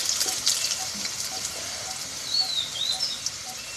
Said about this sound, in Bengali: প্রথমে আমি আলু, পেঁপে, গাজর একসঙ্গে ভেজে নেব।